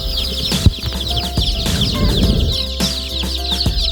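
Native Thai farm chicks and chickens, with chicks being readied for shipping, fill the scene with constant high peeping under throaty clucks and occasional sharp thumps, all close and loud.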